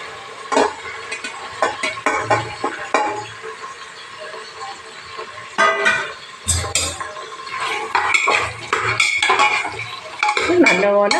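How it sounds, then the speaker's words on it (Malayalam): Onion, shallots and green chili being sautéed in a pan for mutton curry, busy stirring and scraping with frequent metallic clanks of a spoon on the pan over a light sizzle, loud and close. "ഇനി നമുക്ക് സവാള, ചെറിയ ഉള്ളി, പച്ചമുളക് കൂടെ ഇട്ട് വഴറ്റാം."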